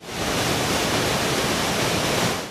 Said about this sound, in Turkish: Van'da bulunan Muradiye Şelalesi baharda farklı güzelliğe bürünüyor.